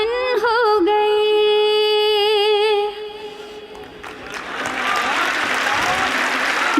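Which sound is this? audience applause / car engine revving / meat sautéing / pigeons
audience applause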